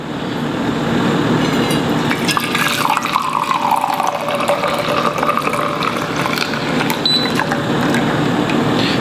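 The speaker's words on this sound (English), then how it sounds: "then we'll pour ourselves a cup of coffee" Freshly brewed coffee pours from a plunger pot into a cup, a steady close liquid trickle and splash lasting several seconds over a busy background hiss.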